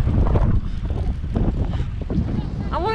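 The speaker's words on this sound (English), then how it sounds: "the weather is windy and it's cold" Wind roaring across a microphone on a bicycle ride in Mallorca on a cold, windy day, a steady broadband rush with gusty low rumble throughout, and a short tonal squeak near the end.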